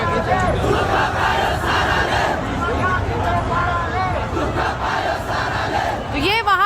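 Large crowd of young protesters in Nepal shouting and chanting, a dense continuous roar of many voices close and loud, with a whistle-like call near the end.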